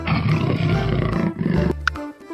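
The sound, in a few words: jaguar roaring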